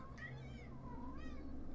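A house cat meows twice to be fed, two drawn-out, wavering calls close to the microphone over a low, constant background hum.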